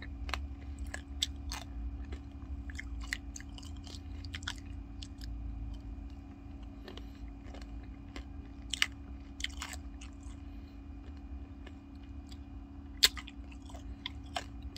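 Candied fruit tanghulu being bitten and chewed close up, with repeated sharp crunchy cracks of the sugar shell over a low steady background hum and no talking.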